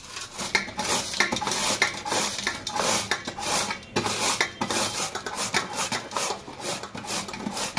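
Papaya being shredded on a number-two grater for boiled papaya sambharo, a continuous rasping scrape with rhythmic strokes and occasional metallic clinks, close and fairly loud with no talking.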